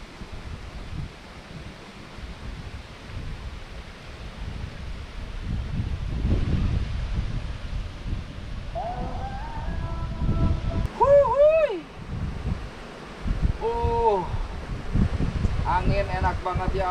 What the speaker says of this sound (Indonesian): Angin enak banget, ya Allah.